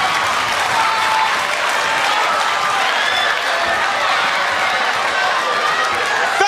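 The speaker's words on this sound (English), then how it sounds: "All y'all should be clapping" A comedy club audience claps in a dense, steady wall of applause at AJ Johnson's stand-up show, loud and continuous throughout with a faint crowd murmur underneath.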